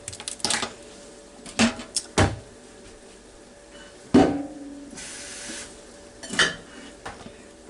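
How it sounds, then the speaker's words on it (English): A crock pot taken out and handled in a kitchen: several separate clunks and knocks of the pot and lid, close and loud, spaced by quiet gaps. "we'll get out our handy dandy crock pot"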